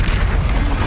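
A Confringo explosion spell in the video game Hogwarts Legacy bursts as a short, loud, deep boom with rumbling low end that fills the brief moment.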